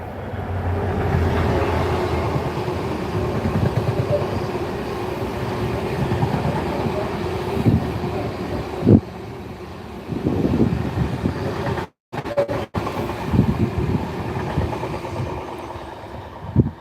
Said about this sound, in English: got a freight one coming this way any second